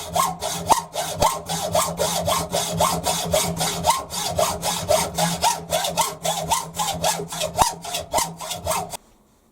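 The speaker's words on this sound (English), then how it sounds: "I've hacksawed off just over 60mm, 62, 63mm" A hand hacksaw cuts through a one-inch square EN8 steel bar in a lathe workshop, with steady, rhythmic back-and-forth rasping strokes, loud and close, about two strokes per second before stopping.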